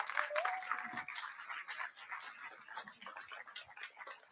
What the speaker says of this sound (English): So if we could just give ourselves a warm round of applause